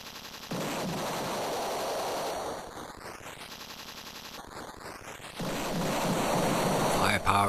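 Rapid bursts of gunfire and rumbling explosions from the Amiga shooter Fire Power, arriving in dense volleys separated by steady background noise and rising synthetic sweeps, loud and close.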